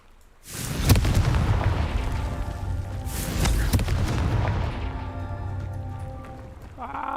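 A Confringo fire spell explosion in Hogwarts Legacy: a sudden deep boom, then a second burst and a long rumbling, crackling fade, loud and near.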